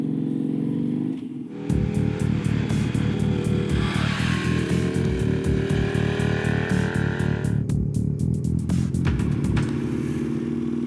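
Either an Aprilia Tuono or a KTM 990 Duke V-twin naked motorcycle roars close by under way, its loud, throbbing engine rising and falling through gear changes, with no talk over it.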